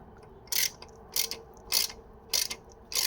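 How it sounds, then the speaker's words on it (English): A ratchet tightens a long bolt on a 2015 Maserati Quattroporte S Q4 valve cover, giving five sharp, evenly spaced bursts of clicking close up, with no talking. "So now we're gonna tighten this long bolt into this small hole."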